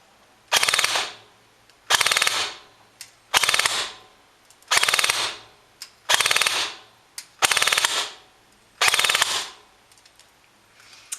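Ares TAR 21 airsoft rifle firing 0.20 g BBs on a 9.6 volt battery, loud and close: about eight full-auto bursts of roughly half a second to a second each, evenly spaced with brief pauses between, no talking.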